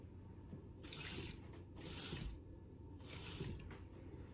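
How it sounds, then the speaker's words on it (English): Water is spooned into beaten egg in a bowl while making eggplant parmesan, heard as three short, soft splashing bursts in a quiet kitchen. "we're gonna add 4 tablespoons of water"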